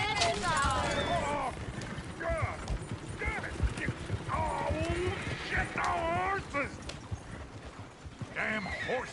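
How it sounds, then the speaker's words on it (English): Horses in the Red Dead Redemption 2 video game clop their hooves and whinny, with several neighs breaking through a busy layer of game noise while voices talk over the scene. "Damn horses!"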